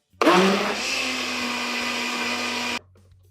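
A Homgeek mini blender with steel blades whirs steadily at high speed for about two and a half seconds, starting abruptly and cutting off cleanly, close and loud.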